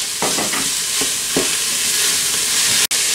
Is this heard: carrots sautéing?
yes